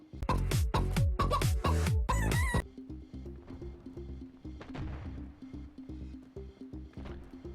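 Rooster crowing and clucking from a mobile shooter game, with a loud burst of sharp calls up front, then softer repeated clucks over a low background hum.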